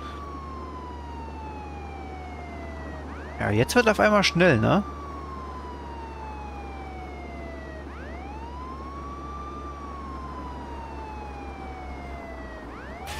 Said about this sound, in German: Erstmal hier Sirene anmachen, damit auch deutlich zu hören ist,